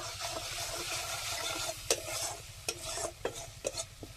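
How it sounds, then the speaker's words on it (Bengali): Masala with turmeric, Kashmiri chili powder and salt is stir-fried in a pan: a constant close sizzle broken by sharp, irregular scrapes and knocks of the spatula. "মশলাটা ভালো করে কষিয়ে নেবো"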